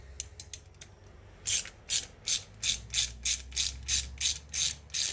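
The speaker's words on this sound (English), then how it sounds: "Second thing you want to do is take off this nut here. It's a 7mm." A ratcheting wrench works a 7mm nut off a WLToys 104001 RC car. A few light ticks give way to a regular series of about nine loud, close ratchet strokes at an even pace.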